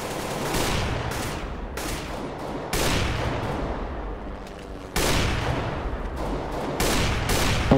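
Counter-Strike: Global Offensive gunfire, with dense bursts of automatic rifle fire and sharp repeated shots cracking loudly and continuously, including heavy volleys near the start and end, with no talk over them.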